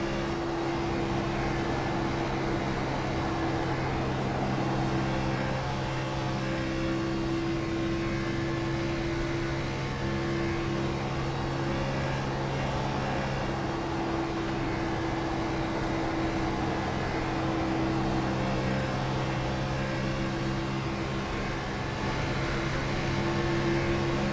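Race car engine on a two-lap qualifying run at a short oval, a steady droning hum with sustained tones and broadband rumble, constant and moderately loud without interruption, heard from a distance.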